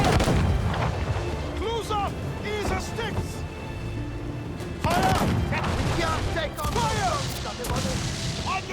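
Ship cannons fire in a naval battle in the video game Assassin's Creed: Freedom Cry, with heavy booms and a ragged fusillade under shouting voices and a constant background din.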